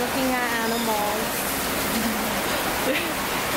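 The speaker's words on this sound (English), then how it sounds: "It's raining once again." Steady rain falls outdoors in Cairns as an even, close hiss that lasts throughout, with people talking over it.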